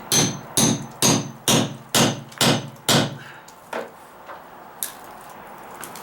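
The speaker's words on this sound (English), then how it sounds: "That's how you work a nail puller." Seven sharp metallic strikes from a nail puller on a nail in deck wood in steady rhythm, close and loud, followed by a few fainter knocks and scrapes of metal tool work.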